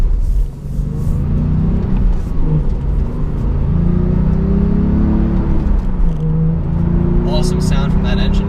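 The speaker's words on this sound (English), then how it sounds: "Awesome sound from that engine back there. This has a really good exhaust setup, just standard from Porsche." A 2017 Porsche 911 Carrera S with a turbocharged engine and standard factory exhaust rumbles and revs from behind the cabin, the engine note rising and falling in loud steady swells across the stretch, with no talking.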